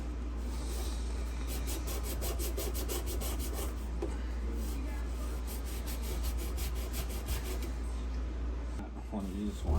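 A green scouring pad scrubs a stainless steel kitchen sink, making steady close rubbing and scraping strokes in a rapid back-and-forth rhythm that run continuously under faint background sound.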